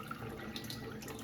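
Water runs steadily from the upper tube of a Kangen Leveluk K8 water ionizer, a faint, even trickle with no talking.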